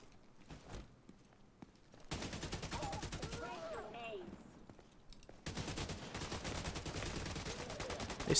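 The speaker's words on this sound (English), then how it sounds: "Someone is shooting something." Bursts of gunfire in the video game Division 2: sharp rapid volleys in two long stretches separated by a brief lull, with a voice speaking over the shooting and a few isolated shots before it begins.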